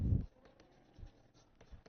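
Pen writing by hand on paper during a lesson on probability, a faint soft scratching with a few brief strokes, quiet and close, no talking.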